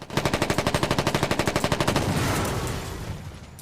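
A rapid burst of automatic gunfire in the video game Foxhole, about twenty evenly spaced shots, gives way to a rumbling blast that slowly fades.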